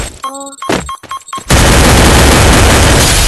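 Free Fire mobile shooter gunfire: after a moment of tonal game sounds, a loud, sustained burst of rapid shots fills the rest of the moment with dense, close, unbroken crackle.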